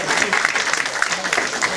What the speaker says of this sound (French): Vous pouvez les applaudir les deux déjà.